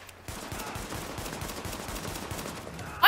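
Enemy gunfire in The Division, a dense, continuous burst of rapid shots at steady loudness for about three seconds, ending in a sudden loud blast.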